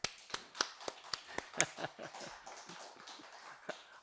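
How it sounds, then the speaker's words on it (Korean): A church congregation at an Easter service claps together, a dense run of quick overlapping hand claps that starts strong and gradually thins out, heard alone without talk. "이럴 땐 박수 한번 해주셔야 됩니다."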